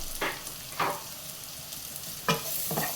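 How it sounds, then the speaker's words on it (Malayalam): Butter garlic paneer fried rice being stir-fried in a pan over raised flame, with four sharp scraping stir strokes over a soft continuous sizzle. "ഫ്ലെയിം കൂട്ടി വെച്ച് ഒരു 2 മിനിറ്റ് ഇളക്കി കൊടുക്കാം."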